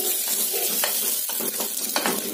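Onions frying in a pan for tomato sambar give a steady, loud sizzle, with occasional scraping from stirring running through the hiss.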